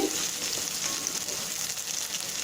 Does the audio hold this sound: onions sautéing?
yes